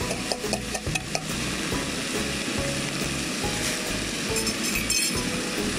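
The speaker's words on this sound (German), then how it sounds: "So, jetzt geben wir die Kartoffeln dazu." Potatoes tipped into a pan of onions and paprika frying outdoors, a few clinks and knocks at the start giving way to steady close sizzling, no talking.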